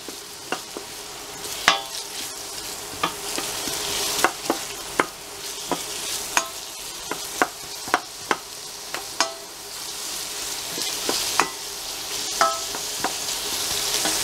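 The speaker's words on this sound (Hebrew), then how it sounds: "השמן חם, אז מוסיפים את הבצל ומתגנים אותו עד שהוא יותר מלבין ויותר רך" Onion softening in hot oil in a pan for a pasta with mushrooms, pesto and broccoli, a steady close sizzle broken by frequent sharp clacks of stirring, no voices.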